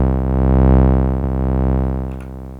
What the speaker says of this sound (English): which gives you a tremolo-like effect